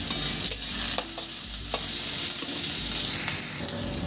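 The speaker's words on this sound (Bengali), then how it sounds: "আমি সুন্দর করে নেড়ে চেড়ে ভেজে নিচ্ছি" Garlic and onion tempering frying in a pan, a steady close sizzle with a spatula scraping and knocking against the metal at intervals.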